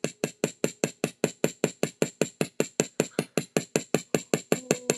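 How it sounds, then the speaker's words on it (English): A tiny hammer rivets jewelry supplies, striking a rivet into a hole with a quick, even series of about twenty sharp metallic taps, close and clear, without talk. "We're riveting that into the hole."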